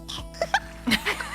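A voice makes a few short, squeaky coughing and hiccuping noises imitating a baby's cough, quick bursts with brief gaps.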